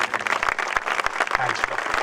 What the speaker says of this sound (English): We owe him a big thank you and a very, very big round of applause